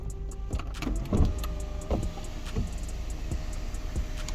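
Electric sunroof motor on a 2018 Subaru Legacy running steadily inside the cabin, a continuous whirring hum with faint mechanical clicks as the panel slides open.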